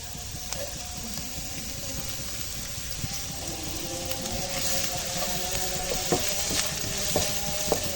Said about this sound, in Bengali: এরপর পেঁয়াজটাকে সুন্দরভাবে হালকাভাবে ভেজে নেব